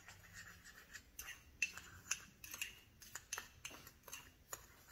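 A spoon stirring an olive oil and sugar face scrub in a small bowl, faint close scraping and light clinking strokes in an irregular rhythm, no talk.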